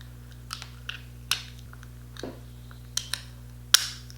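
Several sharp little plastic clicks and snaps as clear Invisalign aligner trays without attachments are removed, scattered and close, with quiet pauses between them in an otherwise still room.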